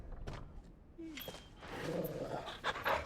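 A dog pants in Final Fantasy XVI, a quick breathy rhythm heard close against soft in-game ambience, with a faint voice nearby.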